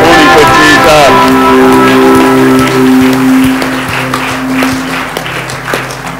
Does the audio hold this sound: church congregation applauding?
yes